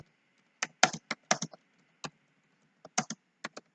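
Python code typed on a computer keyboard, crisp close key clicks in short irregular bursts separated by brief pauses, alone against a quiet background.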